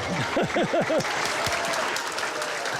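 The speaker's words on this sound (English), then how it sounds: "Give them both a big round of applause." Audience applause at a live televised show, a steady wash of clapping from a crowd with a few short vocal whoops near the start, loud and continuous throughout.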